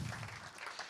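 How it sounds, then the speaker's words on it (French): Crowd clapping at an awards ceremony, a brief even wash of applause at moderate level with no voices over it. "On peut les applaudir très fort."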